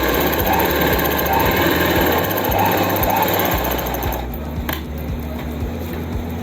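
A sewing machine runs steadily while stitching palazzo pants, a rapid rhythmic mechanical chatter close by that continues throughout, with a slight change in tone near the end.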